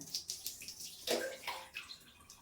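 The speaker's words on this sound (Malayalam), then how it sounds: "ഞാൻ കുറച്ച് വെള്ളം ഒഴിക്കുവാണ്" Water is poured over someone's hair during a hair wash, a soft splashing trickle in short uneven bursts, close and fairly quiet.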